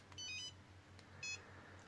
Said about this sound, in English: you'll get obviously your beeps and your alarm beeps